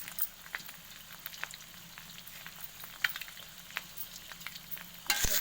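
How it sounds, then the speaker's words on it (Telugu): Five beaten eggs with salt frying in a kadai give a soft, steady sizzle with light scraping stirs, fairly quiet and close, ending in a brief louder clatter. "5 గుడ్లు తీసుకున్నాం, ఇందులో పోసుకున్నాం. కడాయిలో పోసుకొని ఉప్పు వేసుకుందాం"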